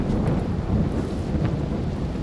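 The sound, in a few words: rain and thunder in Rimworld video game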